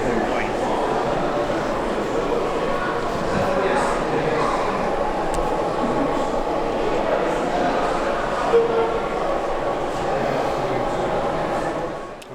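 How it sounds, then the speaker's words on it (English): A model railway locomotive runs on a layout at a model railway festival, with a steady mechanical rolling hum under the busy chatter of an exhibition hall crowd. "we can see a close up of this locomotive moving up"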